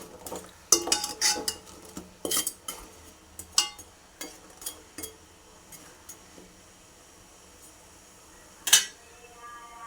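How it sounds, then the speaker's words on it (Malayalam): A spoon scrapes and clinks against a metal pot while jaggery is stirred in water to melt it, a run of close, irregular metallic taps and scrapes with short pauses and a sharper clank near the end. "ഇളക്കി കൊടുത്ത് അതൊന്ന് അലിയിച്ചെടുക്കുക."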